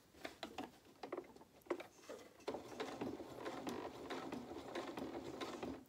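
A sewing machine stitches slowly around a neckline curve on a small polka dot doll dress, a faint rapid ticking patter that comes in short stop-start bursts and then runs more steadily.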